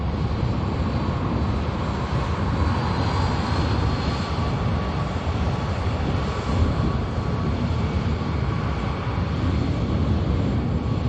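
KLM Neo airliner touching down at Manchester Airport, a steady, broad engine roar that holds loud and even throughout, with no speech over it.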